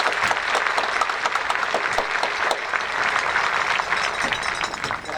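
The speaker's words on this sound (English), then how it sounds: "So a big round of applause to Ms." A graduation ceremony crowd applauds steadily, many hands clapping together in a dense, sustained round that fades slightly at the end.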